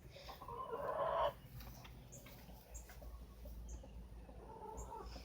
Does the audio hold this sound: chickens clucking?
yes